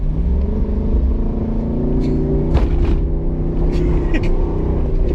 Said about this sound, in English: Dude, that was full throttle. It like did not want to, it was like bogging down hard.